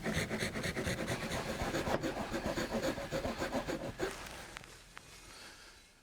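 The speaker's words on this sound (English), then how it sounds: "I'm going to begin by cutting away first the damaged sill, and then the decayed trim" Rotted wooden window sill and trim being cut away, a steady rhythmic rasping saw stroke repeating for several seconds before slowing to scattered scrapes and quiet.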